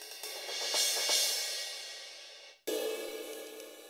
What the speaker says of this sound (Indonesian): Ini simbal crash.